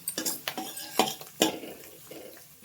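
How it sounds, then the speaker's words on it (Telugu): A spoon knocks and scrapes inside a pot as turmeric is stirred into tomato dal, a run of irregular clinks and taps, fairly close and without talk. "పసుపు వేసి కూడా బాగా కలపండి"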